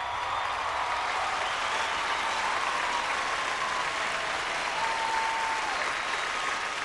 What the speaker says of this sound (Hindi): कम ऑन गाइस, जोरदार तालियां हो जाए तेरिया एंड फैमिली